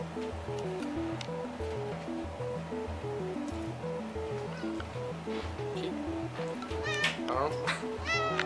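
A house cat meows a few times near the end, rising chirpy calls over a steady musical background with people talking throughout.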